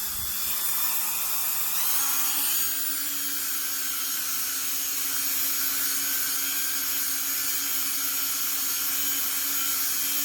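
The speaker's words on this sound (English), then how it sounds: "I'll do a quick buff on the back." A handheld rotary tool whirs steadily while buffing the back of a polymer clay pendant, a loud, close, high-pitched motor whine with a stable tone that shifts pitch slightly early on, then holds constant, with no talking.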